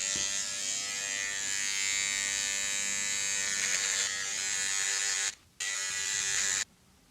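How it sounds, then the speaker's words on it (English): Electric hair clipper or trimmer buzzing steadily close by while cutting a zero line for a self-cut fade; the hum runs continuously, drops out briefly near the end, then stops. "we're going to go in with the clipper or the trimmer that we'll put the zero line in with."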